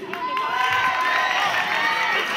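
Applause and cheering from a crowd, children shouting among them, as a team's score is announced at the Ethnopoly Meyrin 2010 event. A busy, continuous wash of clapping and raised voices fills the whole stretch.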